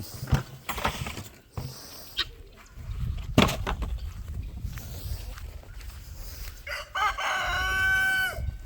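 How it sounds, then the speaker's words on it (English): A rooster crows near the end over a steady background of soft clucking and rustling from free-ranging chickens, with a few sharp knocks along the way. "Alright guys, chickens are all out, everyone's happy."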